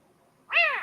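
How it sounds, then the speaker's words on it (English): One high, clear meow from a tiny stray newborn kitten, rising then falling in pitch and lasting about half a second, close and alone against near silence. "Other than the meowing constantly, he seems to be healthy and fine"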